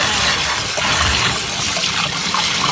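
Cold water runs and splashes over salad greens being washed, a loud, continuous rushing close by with no pauses and no voices.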